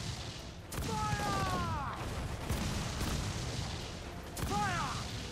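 Ship cannons booming in Assassin's Creed Black Flag during a naval battle, several heavy blasts spread across the moment with rising whistling projectiles and rumbling noise between them, at a moderate level.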